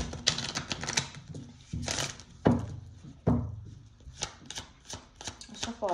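Tarot cards shuffled by hand during a Virgo reading, giving repeated sharp riffling and tapping bursts in an irregular rhythm, close and fairly loud, with no talk.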